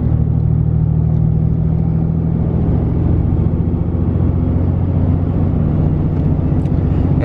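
A Cummins 6.7L diesel truck with a dual-disc clutch, running in third gear as the revs climb before a clutchless gear shift, gives a loud, steady, close-up droning rumble throughout.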